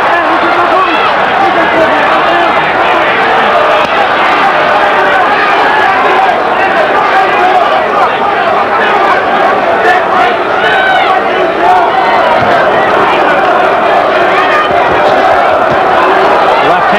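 Boxing arena crowd at the Tim Witherspoon versus Frank Bruno heavyweight fight, a dense continuous roar of cheering and shouting that swells throughout, with babble of voices mixed in.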